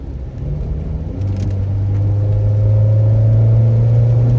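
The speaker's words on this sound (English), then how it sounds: "I just gotta pass this truck." A car engine revs up and accelerates on the road to pass a truck, a steady, loud low drone rising in pitch and strength over a few seconds, heard from inside the car with no talk.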